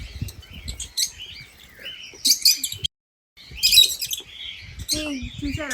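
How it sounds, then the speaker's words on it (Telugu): Lovebirds chirp and tweet in quick, bright bursts at the Sri Venkateshwara Zoo in Tirupati, with a brief silent gap midway and a low background murmur throughout. "చూసారా లవ్ బర్డ్స్ అలాగే ఉన్నాయి కదా అవి కూడా"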